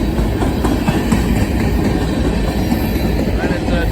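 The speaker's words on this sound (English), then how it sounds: "Got an N-train DPU and a Burlington Northern hopper." A freight train rolls past close by, including an older Burlington Northern hopper car, with a loud, continuous rumble and rhythmic clatter of wheels over rail joints as a voice talks faintly underneath.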